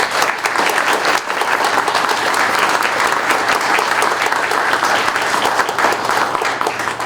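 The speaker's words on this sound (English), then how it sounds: "Can we just give them a round of applause?" An audience at a corporate award event gives a sustained round of applause for veterans, dense, loud clapping that holds steady for several seconds.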